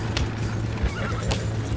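Horses in Red Dead Redemption 2 on a chase near an oil wagon on the tracks, with steady low hoofbeats and a couple of short whinnies over continuous rumbling, fairly close and loud.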